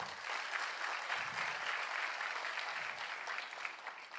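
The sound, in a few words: applause from the audience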